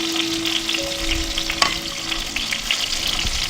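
Tomatoes frying in a hot pan give a steady, close sizzle with spatters, while scrapes and light clatter of stirring pass through and there is no talk.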